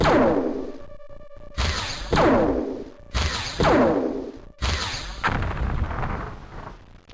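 Explosions and gunfire in the video game XCOM during a fight against cyberdisks, a run of sharp, heavy blasts, each ending in a booming tail, spaced about a second apart with brief electronic tones between them.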